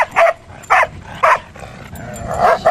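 A white short-haired pointer dog at a dog park gives a string of four loud, close barks and yips, spaced about half a second apart, with quieter noise between them.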